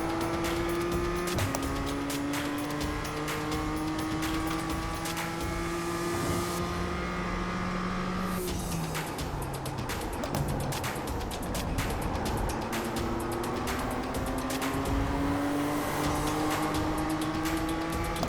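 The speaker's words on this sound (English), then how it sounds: "that wheel spin came at a bad time" An iRacing race car engine howls through upshifts and downshifts, with a stretch of wheel spin where the revs flare and the tone smears mid-run, loud and continuous with other cars faintly around and no talk.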